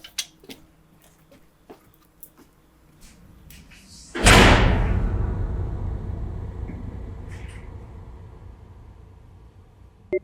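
A heavy door slams shut as people head outside the empty Morgan County Jail in Kentucky. A few faint knocks and clicks come first, then one loud boom with a long, echoing decay.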